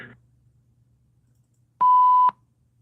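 A beep sound effect played by the sound crew during a talk show, a single steady electronic tone lasting about half a second, loud and clean against near silence.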